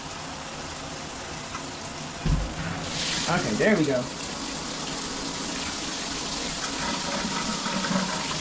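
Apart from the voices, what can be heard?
water spraying from a shower head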